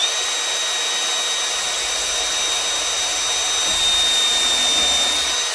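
Steady whirring of a Milwaukee M18 cordless drill-driver running continuously while driving screws into a DIY router table, close and fairly loud with a slight rise near the end.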